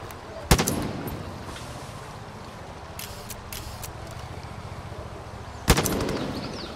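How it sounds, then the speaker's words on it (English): Gunfire rings out in Far Cry 5: two sharp, loud, isolated shots several seconds apart, each followed by a short echoing tail, with a few fainter cracks in between over steady game ambience. "Who the hell's shooting?"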